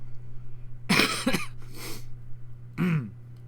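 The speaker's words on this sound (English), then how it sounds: "If you hear me like clearing my throat a lot or coughing" Someone nearby coughs and clears their throat in a few short bursts separated by brief pauses.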